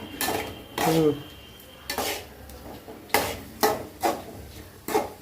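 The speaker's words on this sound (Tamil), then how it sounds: "நல்லா வதங்கிட்டே இருக்குது." Ingredients for Pallipalayam chicken curry sauté in a pan, with about half a dozen distinct close scrapes and clanks of a ladle against metal over a faint sizzle.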